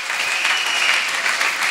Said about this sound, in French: Qui peut acclamer cette parole?